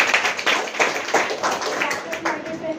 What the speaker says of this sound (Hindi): एक बार जोरदार तालियां रेखा जी को